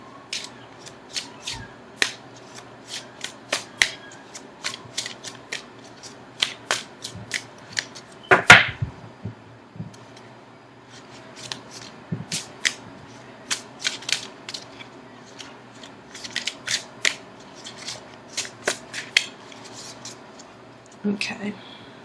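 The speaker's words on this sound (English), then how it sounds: "now I'm going to shuffle for an outcome card" Tarot cards are shuffled by hand in a quiet room, giving a long run of irregular crisp flicks and taps with one louder clatter near the middle, close and alone.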